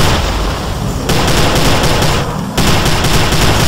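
Dense rapid gunfire with bullet impacts in the video game Prey, loud and continuous, a brief shift in texture midway, with no talk over it.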